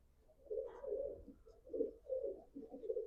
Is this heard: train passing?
no